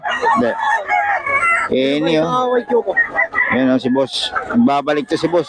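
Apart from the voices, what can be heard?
chickens and roosters crowing at a market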